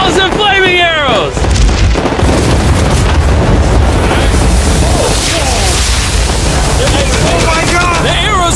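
Video game siege battle with volleys of flaming arrows and explosions: continuous loud booming and whooshing, with a voice talking over the action throughout.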